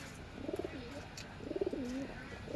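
Pigeons in a loft give two soft, rolling coos, one near the start and another about a second later, close but fairly quiet with faint background noise between them.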